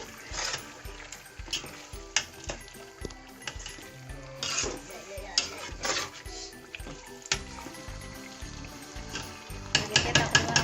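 Masala stirred into tripe frying in a pot, with sizzling and scraping stir strokes in an uneven rhythm, close and fairly quiet, no talk over it.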